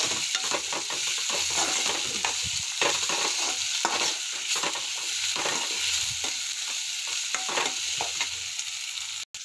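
Moth beans and tomatoes fry lightly in a pan, giving a steady close sizzle with repeated stirring scrapes throughout, and no voices.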